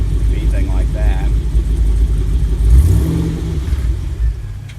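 A cammed LS V8 engine with drive-by-cable throttle rumbles loudly at idle, rises briefly in a rev to about 1800 rpm, then struggles to settle back to idle, with a voice talking over it.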